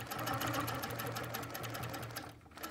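An HQ quilting machine stitches in the ditch along a ruler down a seam, giving a steady rapid mechanical whir and needle patter that runs continuously and up close with no talking.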